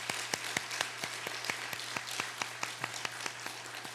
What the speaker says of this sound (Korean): 우리가 박수 한번 줬으면 좋겠습니다.